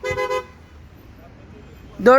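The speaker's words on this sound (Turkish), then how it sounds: "ile kornayı devreye aldı" Two short, loud horn honks in quick succession from a Renault-group car alarm, then near-quiet background, ending with a sudden burst of the alarm starting up.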